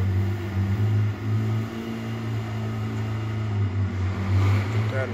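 A Ferrari engine running nearby at a steady low idle during a tour in Lake Forest, a continuous deep hum that swells slightly toward the end.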